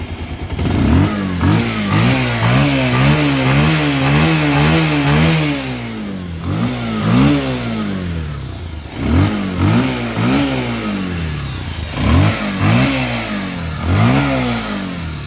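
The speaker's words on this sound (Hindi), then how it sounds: "तो अब मैं बाइक को स्टार्ट करता हूँ और मैं आपको इसकी वाइब्रेशन चेक कराता हूँ।" A Bajaj Pulsar 150 motorcycle engine with a faulty right-side engine mounting idles roughly, then revs up and down in repeated surges, loud and close, with a steady rattling vibration running underneath.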